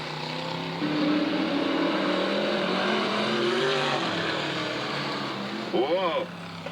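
Stock cars lapping a dirt speedway at Southern Oregon Speedway during a Pro Stock trophy dash warm-up, their engines droning steadily at a distance with a louder pass near the end, under a commentator's voice.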